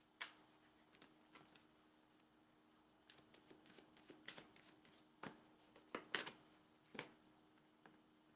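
Tarot cards are shuffled by hand for a card pull: quiet, close riffles and soft snapping flicks come in uneven bursts that grow busier midway, with no one speaking.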